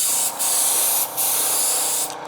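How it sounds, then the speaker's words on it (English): An airbrush spraying thin, even coats of Scale Finishes paint onto a model car body, giving a close, steady hiss in three long bursts separated by brief pauses. "this scale finishes paint sprays very thin and very even"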